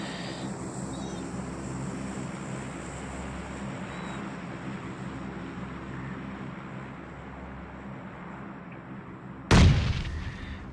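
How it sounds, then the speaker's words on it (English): A grenade goes off with one loud, sharp blast near the end of a battle royale video game fight. Before it, a steady rumbling bed of distant gunfire and battle noise runs under the scene, with no talking. "Oh, Jess gets knocked by a nade from one of the members of Team 11."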